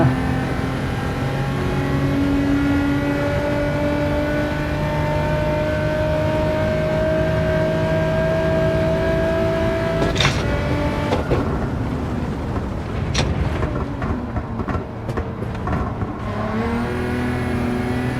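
Race car engine in Gran Turismo 7, a loud continuous onboard whine with shifting harmonic pitch as the car revs, then gear-shift breaks and rising revs near the end, no talk.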